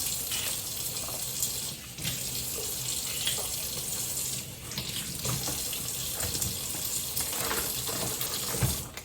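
Tap water runs steadily into a kitchen sink while celery stalks are rinsed under it, a continuous close splashing gush with small bursts as the stalks shift in the stream.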